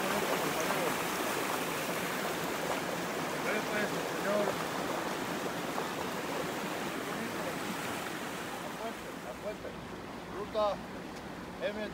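River water at the Salada dam on the Fonsalada river rushes in a broad, steady, fairly loud wash of noise, close and continuous, with a few faint voices in the background near the end.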